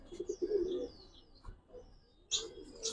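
Pigeons give soft low coos up close in short bursts, mixed with thin higher chirps and calls from other birds, quiet overall with a brief gap before a louder burst near the end.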